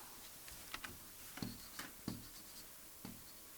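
A pen scratches across paper in a few quick, faint strokes, with short separate scrapes and taps in a quiet room.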